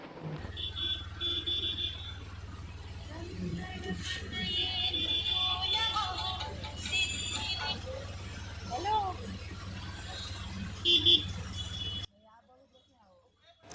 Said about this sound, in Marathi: आणि ट्रॅफिक जाम झालं होतं सगळं पोलीस वगैरे पण होते ते बघा